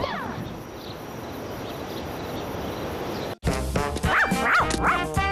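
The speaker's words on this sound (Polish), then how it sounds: "Szczeniaczki robią hu!" Puppies yipping and barking in a quick series of high, close barks, following a stretch of other sound, with a voice present.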